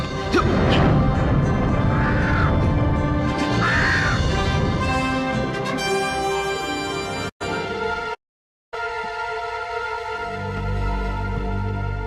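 A black crow caws loudly twice amid a dense, dramatic soundscape with crashing hits, then a brief dropout before the background continues.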